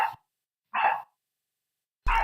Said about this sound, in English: Oh, the dog returned.